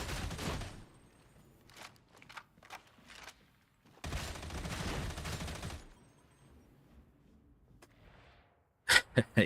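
An autogun fires in the Warhammer 40k Darktide video game: a short burst, then scattered shots, a longer sustained burst of rapid fire, and three loud final bursts after a quiet gap.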